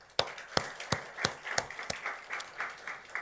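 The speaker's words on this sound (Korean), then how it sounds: "박수로 영광을 드리겠습니다." A church congregation applauds, starting with a few sharp, distinct claps that quickly blend into a soft, steady patter of many hands, heard from some distance in a reverberant hall with no talking.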